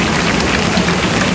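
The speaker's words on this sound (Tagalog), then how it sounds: "Lakas ng ulan ngayon, grabe." Dense, steady rain pours down with a loud, continuous hiss and no pauses.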